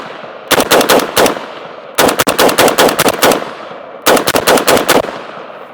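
An SG36 rifle fires PMC Bronze ammunition on an outdoor range, loud and close, in three rapid bursts of sharp shots separated by brief pauses.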